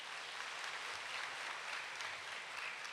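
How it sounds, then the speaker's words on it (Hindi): Sustained audience applause fills a hall at the close of a spiritual talk on the healing power of the mind, a dense, steady clapping from many hands with no voices over it. "एक बार जोरदार तालियां बजाएं।"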